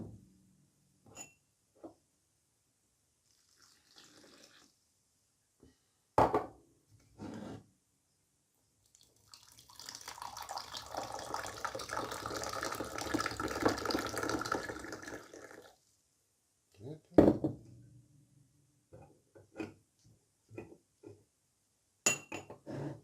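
Moroccan mint tea poured from a height, a sustained splashing, trickling stream of liquid lasting several seconds, framed by scattered clinks and handling knocks before and after.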